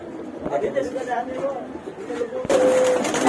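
Pigeons in a loft, including high flyers and a female, coo softly in the background while people talk close by throughout.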